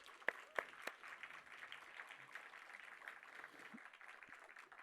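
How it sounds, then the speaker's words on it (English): A few loud individual claps open into soft, distant applause from an audience at a thesis forum, faint and steady with a little scattered noise. "So a round of applause for the students really quick."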